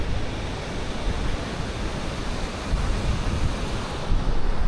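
Ocean surf washes in a continuous, loud rush at Playa del Carmen, with waves surging and breaking close by and no voices over it.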